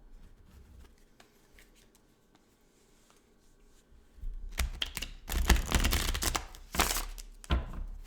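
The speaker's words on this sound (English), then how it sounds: "That was kind of a half shuffle." A deck of tarot cards riffled and shuffled in bursts of dense, papery flutter, close up, after a few seconds of quiet rustling.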